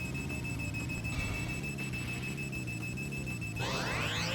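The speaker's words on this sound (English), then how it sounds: "at the cost of a very obnoxious alarm clock we had to listen to for who knows how long" An obnoxious alarm clock rings in the Twisted Metal 4 video game, a steady electronic beeping tone that holds for several seconds over a low rumbling engine drone, with a sweeping synthetic sound rising near the end.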